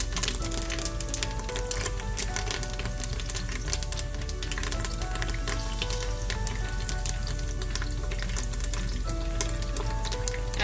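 Curry leaves sizzle and crackle in hot oil inside a pressure cooker, a steady dense frying hiss with sharp pops scattered throughout, close and loud with no talking.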